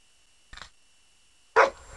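A dog gives two sharp barks against near silence, a softer one first and then a louder, closer bark about a second later.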